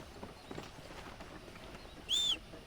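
Horse hooves clip-clopping in the video game Red Dead Redemption, a light, soft trot of repeated steps under a steady game ambience, followed by a brief bright whistle-like tone near the end.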